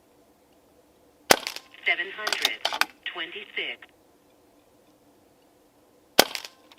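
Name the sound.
Barra 1100Z .22 PCP air rifle shots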